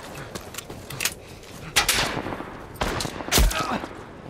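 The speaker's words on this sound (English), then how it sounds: "Shoot out, shoot out." Gunfire in a shootout in the video game The Last of Us Part I, several sharp loud bursts spaced irregularly, including a booming shot near the end, with quieter rattling and clatter between them.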